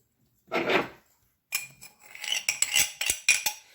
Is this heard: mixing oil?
yes